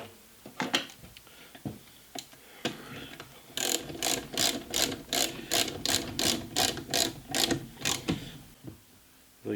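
Bolts being tightened on the crosshaft of a Clausing lathe during a variable-speed repair, heard as a steady run of about a dozen rapid ratchet clicks after a few scattered metallic knocks, close and fairly quiet, with no talk.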